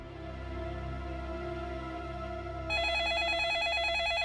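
An electronic phone ringtone starts partway through, a rapid warbling electronic ring that stays loud and steady over a low background hum.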